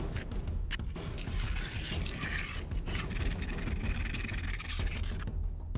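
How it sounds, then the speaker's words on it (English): Continuous rough rubbing of rough sandpaper against a 3D-printed plastic blade, close and steady with brief pauses between strokes. "I started sanding the blade with some rough sandpaper to really get the print lines away"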